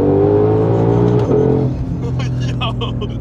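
Ford Shelby GT500 (2020) engine revving hard at full throttle, a loud close roar that rises in pitch, then drops as a voice starts talking over the lower engine note.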